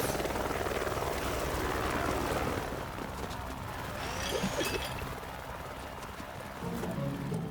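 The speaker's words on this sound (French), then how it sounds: "Il nous faut un hélicoptère." A cartoon helicopter flies with a steady, loud rotor whir and engine drone that holds across the scene, swelling slightly near the end.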